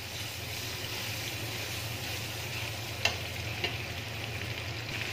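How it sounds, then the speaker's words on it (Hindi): Steady sizzling of ginger garlic paste in a hot pan with a soft scraping stir, two light clicks of a utensil partway through, no voices. "पेस्ट को आप हल्का सा गर्म कर लें, हमने ब्राउन नहीं करना, बस हल्का सा हिला लें।"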